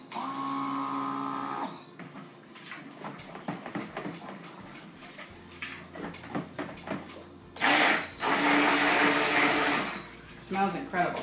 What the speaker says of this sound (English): But you can easily fix that by just stick blending.